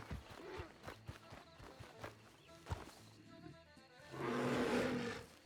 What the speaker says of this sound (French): l'ours il m'a suivi jusqu'ici, il est vraiment juste là